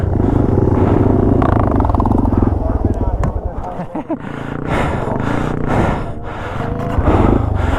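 A Yamaha TW200 motorcycle climbs a gravel hill on Colorado's North Divide trails, its engine roaring loud and close with shifting revs, easing briefly in the middle before surging again.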